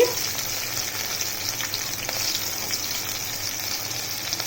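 Raw onion frying in hot oil in a Bengali home kitchen, making rohu fish curry with pointed gourd and potato: a steady, moderately loud sizzle hisses continuously, with faint scraping from stirring now and then and no talk.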